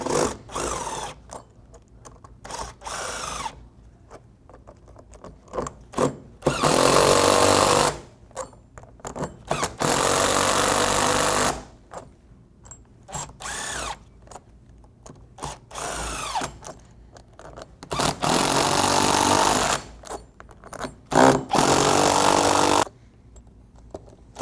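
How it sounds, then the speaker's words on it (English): Power tool tightening nuts on Flexco rip repair plates on black conveyor belting, loud close bursts of whirring and hammering, several seconds each, separated by quieter pauses with clinks and handling. "I'm going to start by just tightening the nuts so the plate is flat on the belt"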